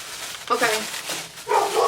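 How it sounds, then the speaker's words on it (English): Dogs barking indoors in a room full of moving boxes, with two bursts of barking mixed with voices and household noise. "the dogs are like losing their mind barking"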